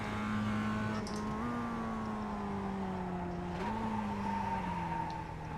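A race car engine in the iRacing sim drones steadily at a sustained pitch, dipping and rising slightly with gear and throttle changes, loud and alone without talk.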